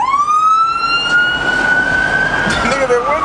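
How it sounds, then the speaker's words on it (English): An ambulance siren passes close by, a loud wailing tone sweeping steadily, with traffic rumble underneath and a voice briefly heard. "the fucking ambulance is going by right now"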